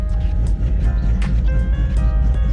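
Drag car engine idling with the valve open and a timing chop set, a loud, continuous rough rumble with a lumpy, uneven pulse throughout, heard alone without talk.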